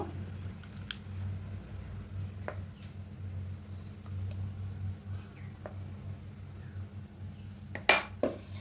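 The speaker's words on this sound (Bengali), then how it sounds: "এই হাফ কাপ মতো পাউডার দুধ একটু ভালো করে মিশিয়ে নেব" A spoon works milk powder into sweetened mango paste in a bowl, producing soft, faint clinks and squishy scraping over a low background hum, with a sharper clink near the end.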